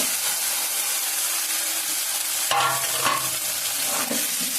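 Fish frying in a pan of spicy chili masala, a steady sizzle and hiss with a louder burst of crackling as the pieces go in and get moved around, close by with no talking.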